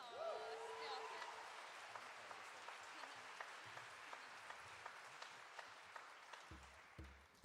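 Applause from a concert audience for a singer at a ten-year anniversary show: a soft, distant patter of many hands that thins toward the end, with a few sharper nearby claps and some murmuring at the start.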